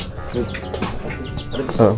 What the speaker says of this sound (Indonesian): Peliharaan ayam